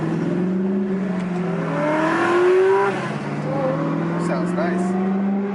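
A Ferrari revs and accelerates nearby, its engine tone rising and sweeping up and down over several seconds, with people talking over it.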